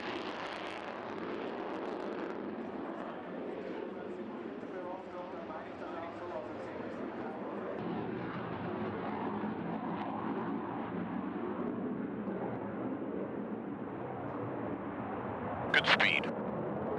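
A Boeing Super Hornet jet on an air-to-air flight demonstration gives a steady, loud broadband roar that holds throughout, with a brief sharper burst near the end, while someone narrates over it.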